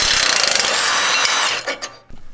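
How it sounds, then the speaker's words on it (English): A socket wrench on a 21 mm socket ratchets out a Jeep Wrangler JL track bar bolt at the axle, giving a fast, loud, close clicking run that slows and breaks into a few final clicks. "we're gonna use a 21 millimeter socket to remove the track bar bolt"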